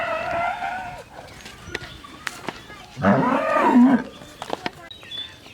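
Large dairy cows on a farm; one loud, drawn-out moo rises near the middle, with quieter earlier lowing, scattered clicks and a low barnyard murmur around it, and no talk.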